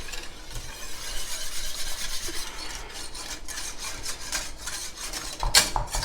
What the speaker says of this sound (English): gonna take a whisk of that guy. Just make sure to break up all that flour